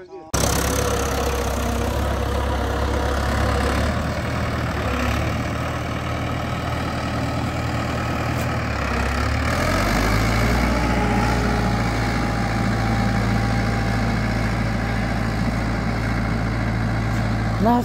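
A tractor engine idles steadily at close range beside a sugarcane planting rig, its low, even rumble running throughout while someone talks over it.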